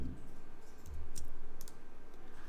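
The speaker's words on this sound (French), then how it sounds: "Je clique sur tout remplacer" A few light mouse clicks made in Adobe InDesign on its Replace All button, short and crisp, sitting close over a steady low hum with no talking.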